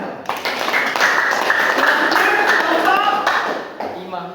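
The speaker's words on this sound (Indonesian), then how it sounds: "Tepuk tangan untuk kelompok 3." Classroom applause for a student group, a brief burst of many hands clapping close by, mixed with chatter and voices.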